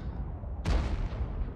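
A tank cannon firing in World of Tanks, one loud sudden boom with a deep rumbling tail that fades slowly over a low engine drone.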